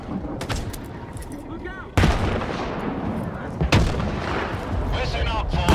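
Grenade blasts and gunfire in the Stalker 2 shooter game: loud, close explosions hitting at about two and under four seconds amid rattling shots, with a voice shouting briefly over the din.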